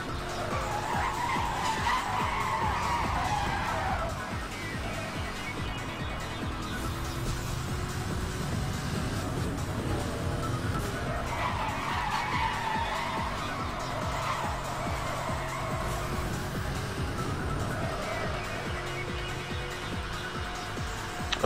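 Tires on a Corvette screech and skid almost continuously in a racing video game, with engine noise running under them. The sound stays loud and steady throughout, and there is no talk.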